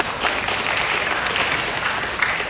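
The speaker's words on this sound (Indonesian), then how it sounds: "Tepuk tangan untuk beliau." An indoor audience at a police gathering on the role of policewomen in keeping the 2024 election peaceful claps steadily, with dense, even applause that is fairly loud and fills the room.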